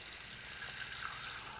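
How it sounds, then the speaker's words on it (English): Water runs steadily from a tap into a container, a soft continuous hiss and splash, close but faint, with no talking. "So we're going to fill a little bit of water up"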